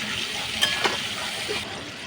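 Boiled ingredients going into a spice masala in a pan, giving a soft steady sizzle with a couple of brief clinks or splashes, close and moderately quiet.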